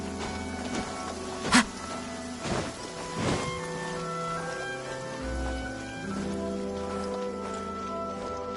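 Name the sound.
heavy rain downpour in video game Genshin Impact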